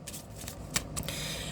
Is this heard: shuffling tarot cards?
yes